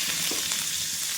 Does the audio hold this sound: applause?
no